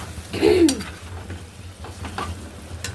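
Red chili, ginger and garlic paste loosened with a little water and dropped into simmering chicken curry; a quick wet plop and scrape, then a steady low sizzle and bubbling.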